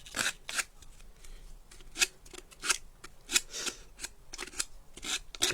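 Paper pieces for a tunnel book box are cut with scissors in close, sharp snips, arriving in a steady irregular rhythm of quick crisp cuts with short pauses between them.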